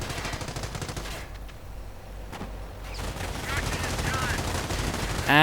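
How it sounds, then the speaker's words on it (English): Hotchkiss tanks fire in a World War I strategy video game, a run of rapid machine-gun bursts and shots with a brief lull in the middle, then heavier firing and a loud blast at the end. "More Hotchkiss advancing, while the other one is firing away."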